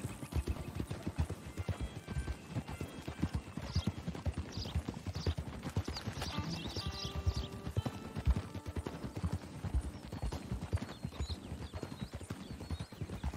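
Horse hooves gallop in a steady, fast clip-clop rhythm throughout while riding in the Red Dead video game, close and continuous, with occasional whinnies and game ambience layered over the pounding hoofbeats.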